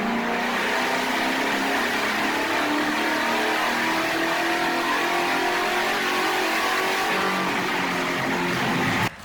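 A bolt-on two-valve 4.6 V8 runs hard on a dyno, a loud, continuous, close engine roar held steadily at high revs before cutting off abruptly at the end, with no talking.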